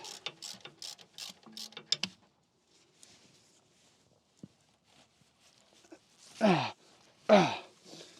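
A torque wrench tightens bolts with washers and Loctite while Sumo Springs are fitted to an overlanding vehicle. Faint clicks and voices come first, then a quiet stretch, then two loud, strained ratcheting pulls close by.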